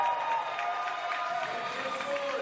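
A crowd at a collegiate swimming and diving championship keeps up a steady roar of cheering and clapping, with a commentator talking over it.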